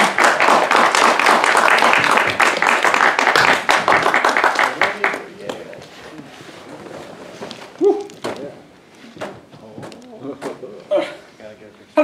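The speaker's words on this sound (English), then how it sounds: "Would you like to kind of give a round of applause?" An audience gives a dense round of applause for a volunteer, loud for about five seconds before dying out into scattered claps, shuffling and someone talking.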